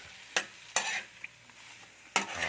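Cheese hotdogs frying in a pan are stirred with a utensil, giving three sharp scraping strokes over a steady, close sizzle.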